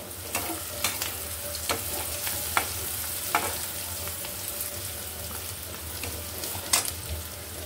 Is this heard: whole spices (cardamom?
yes